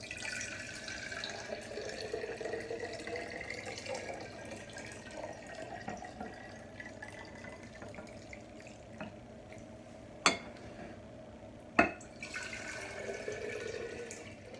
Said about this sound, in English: And you just fill them up with water.